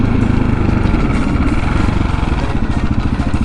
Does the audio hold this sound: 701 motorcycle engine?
yes